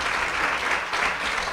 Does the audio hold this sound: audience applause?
yes